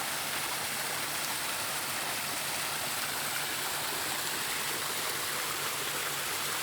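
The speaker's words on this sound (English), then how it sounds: "We've got the water feature." A garden water feature pours steadily, a dense, continuous rush of falling water that stays even and close throughout with no voices.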